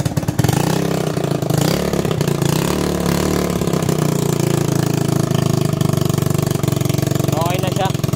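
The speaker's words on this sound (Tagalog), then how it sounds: "Medyo maingay lang yung tambutso niya." A Honda Beat 125 scooter engine idles steadily and close by, a loud continuous rumble with a slightly raspy, noisy exhaust tone, while someone talks over it.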